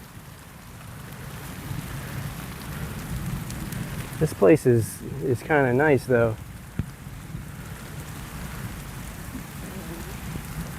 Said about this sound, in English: It's almost like the rain just came and now it's doing what it wants.